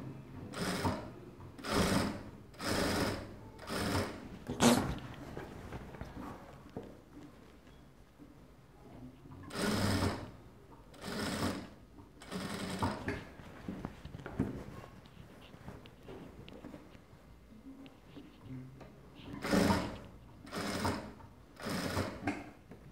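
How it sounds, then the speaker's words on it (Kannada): Sewing machine stitching a shirt collar, running in short bursts of rapid whirring that start and stop in regular groups, close and fairly loud, with quiet pauses between runs. "ಕೆಳಗಡೆ ಪೀಸಿಗೆ ಮಾತ್ರ ನೀವು ಸ್ಟಿಚ್ನ ಹಾಕ್ಕೊಳ್ಳಿ"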